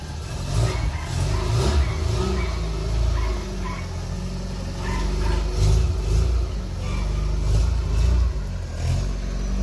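A Volkswagen Santana GLSi is driven out of a garage, its mid-pitched engine idling and revving in steady swells. The close, continuous motor rumble rises and falls as the car pulls away.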